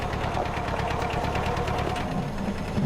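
A loud tractor engine chugs steadily with a rapid mechanical knocking rhythm, heard close and alone.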